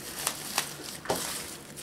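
Soft crinkly scissor snips cutting strips of packing material for shipping hatching eggs repeat at an irregular pace, close by and fairly quiet, with a faint background hiss.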